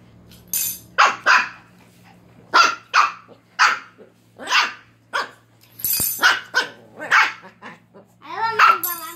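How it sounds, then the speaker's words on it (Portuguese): A small dog barks repeatedly in excited bursts, provoked by the clatter of a spoon, with some growly yips mixed in; loud and close, in an irregular rhythm. "ela ama latir pra uma colher"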